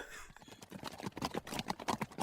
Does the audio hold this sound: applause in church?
no